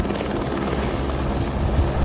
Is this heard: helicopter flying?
yes